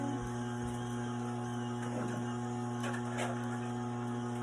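A juicer works through produce, giving a steady, fairly quiet motor hum with constant tonal whine and a few faint scraping bursts over it, no one speaking.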